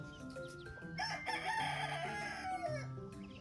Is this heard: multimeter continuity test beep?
no